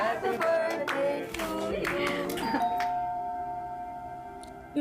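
A doorbell rings in a TV drama scene, interrupting a cake-cutting gathering: bright chiming tones over some clattering, then a single ringing tone that lingers and slowly fades, with no voices.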